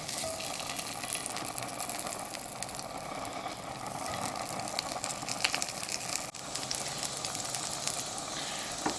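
Spam frying in bacon drippings in a camp pan, a steady crackling sizzle that runs evenly throughout, close and moderately loud, with no talking over it.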